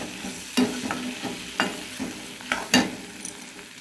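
Sesame and tamarind chutney mixture being stirred in a pan, with a steady soft sizzle broken by several sharp scraping strokes of the spoon against the pan, close and fairly loud.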